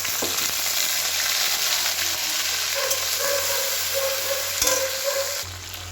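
Cumin seeds, bay leaves and dried chilli frying in hot oil for a Bengali dish, a steady loud sizzle with occasional stirring scrapes, tapering slightly at the end, no voices.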